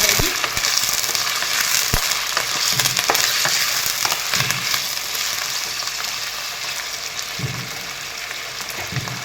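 Chicken pieces fry with browned onions in a pan, giving a loud, continuous sizzle with intermittent scraping knocks as the meat is stirred and turned.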